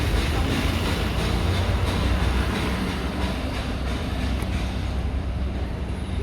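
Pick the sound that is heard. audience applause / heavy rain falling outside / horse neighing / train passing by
train passing by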